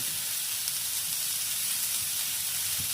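Capsicum and onion frying over high flame in a pan for chilli baby corn make a close, continuous hissing sizzle with no voices.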